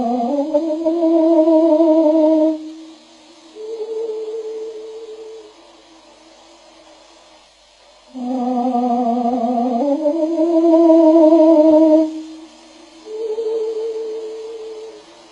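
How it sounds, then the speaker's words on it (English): Bird song slowed down until it resembles a human voice, with long, steady, vibrato-like tones in two separate phrases and quiet gaps between them, loud and clear with no talking. "That is the sound of a bird, slowed down to a pace that the human ear mistakenly recognizes as its own."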